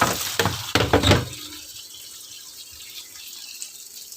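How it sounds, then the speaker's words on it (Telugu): Water gushes from a tap with a loud splashing rush at first, then settles into a softer, steady trickle of filling water. "వాటర్ అయితే బయటికి పంపించాను, ఇప్పుడు వాటర్ నింపేసేద్దాం"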